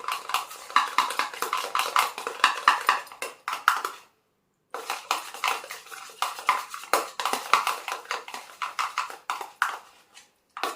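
A spoon stirs aloe vera gel and rose water in a small bowl, making quick, repeated clinking and scraping strokes in close, rhythmic bursts with a brief pause partway through.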